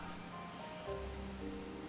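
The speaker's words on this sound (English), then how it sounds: "Okay, the rain's sort of fading in and out." Steady rain hisses in the Pokemon Violet video game, a constant broadband wash with soft game tones layered over it, the level holding fairly even across the stretch.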